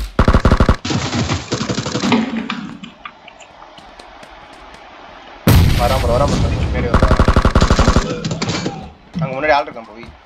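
Loud bursts of automatic gunfire in a shooting video game, close and harsh, with rapid volleys starting and stopping over a quieter stretch, and a voice talking between the bursts.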